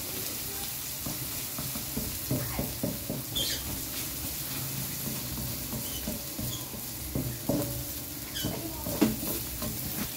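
Garlic and onion sauté in a hot pan with a steady, close sizzle throughout. Occasional scraping taps of stirring punctuate the frying, and no voices are heard.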